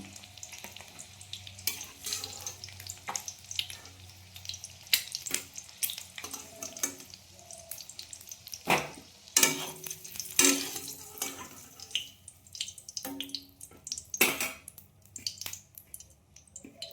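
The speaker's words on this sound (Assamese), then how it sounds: "এইখিনি বেছি নাভাজোঁ, এনেকৈ ভাজিলোঁ।" Food fries in a pan for an egg dish, a steady close sizzle broken by repeated scraping and clinking of a spatula as the contents are stirred, with no talk.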